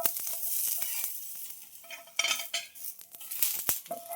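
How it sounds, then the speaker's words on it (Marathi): Steady sizzling and scraping as chilies and garlic dry-roast in a hot pan, with metal clinks and stirring clatter throughout. "मिरची लसूण हे सगळं भाजावं लागतं आधी"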